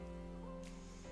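A soft, soothing electronic tone from a recording device, a steady sustained hum with stable pitch and a faint brighter shimmer partway through, heard alone at low level.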